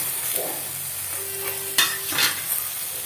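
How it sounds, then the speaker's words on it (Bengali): Small fish and eggplant frying lightly with turmeric in a pan, a soft sizzle with a few gentle scraping stirs, close and fairly quiet. "একটু হালকা করে নেড়ে চেড়ে নিচ্ছি"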